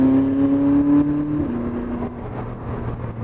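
A McLaren 600LT engine with a roof scoop holds a steady revving drone, its pitch dropping after the first second and a half, then settling into a lower hum. It sounds near and continuous, with no voices.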